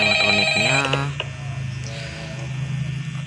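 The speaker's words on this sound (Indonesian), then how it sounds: "Oh, ada telepon." A telephone rings in the Five Nights at Freddy's video game, with a loud electronic ring followed by a lingering tone, over a low steady hum.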